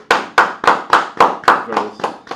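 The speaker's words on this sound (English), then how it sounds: "Can we just get a round of applause for Judah real quick?" Hands clap in a steady, even rhythm, about nine sharp claps in a little over two seconds, close and fairly loud, as a short round of applause.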